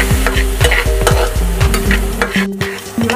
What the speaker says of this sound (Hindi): टमाटर को मिक्स करते हुए इसे थोड़ी देर पका लेंगे।